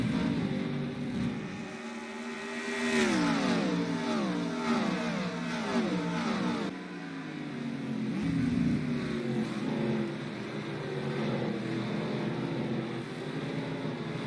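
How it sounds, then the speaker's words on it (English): Stock cars roar around a pier street course in a racing video game, engines wailing and shifting through rising and falling revs as several cars pass close, loud and continuous with no talking. "As the cars roar through the pier and coming back around, Greg Biffle continues to lead."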